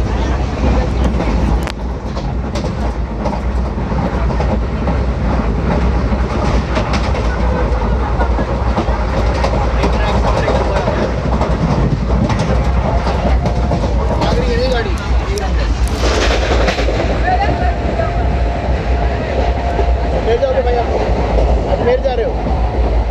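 A Jammu Tawi-bound express train hauled by an EMD locomotive passes at around 110 km/h, a loud, sustained rumble with rhythmic clickety-clack of wheels over rail joints, heard from close by with voices talking over it.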